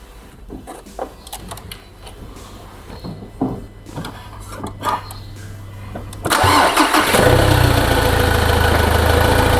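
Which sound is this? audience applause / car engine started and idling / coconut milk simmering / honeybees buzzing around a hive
car engine started and idling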